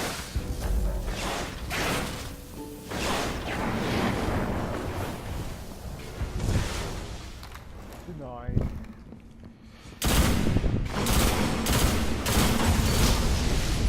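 The Red Death pulse rifle fires in a Destiny multiplayer match as repeated bursts of gunfire, with whooshing game effects between them, loud and continuous across the scene.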